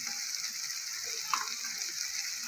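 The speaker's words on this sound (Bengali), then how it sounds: "মশলাটা আমি ভালো করে সব কষিয়ে নেবো।" Tomato, turmeric and Kashmiri chili powder fry in oil in a pan for a fesa fish curry, giving a steady, close hiss of sizzling with one small clink of stirring partway through.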